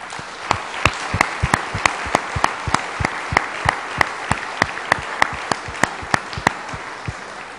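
Audience applause for local charities during a mayor's New Year address in Béthune, France; sharp, distinct hand claps ring out in a fairly regular rhythm over a softer bed of clapping.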